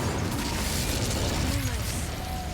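Incendio fire spell cast in Hogwarts Legacy, a dense roaring burst with crackling bangs that stays loud and sustained across the whole moment, heard alone without voices.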